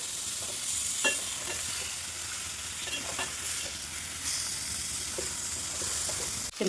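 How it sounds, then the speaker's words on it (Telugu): Fish pieces frying in masala for a tamarind fish curry, a continuous bright sizzle with soft scraping stirs of a spoon in the pan, close and alone without talk. "ముందే శుభ్రం చేసి పెట్టుకున్న చేప ముక్కలు వేసుకోవాలి."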